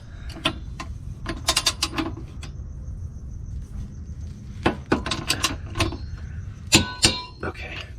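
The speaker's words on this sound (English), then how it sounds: "get a torque wrench, set it to 70 foot-pounds" A torque wrench set to 70 foot-pounds tightens a bolt on a COBB rear motor mount, giving several bursts of sharp ratcheting clicks in irregular clusters, close and fairly loud over low background noise.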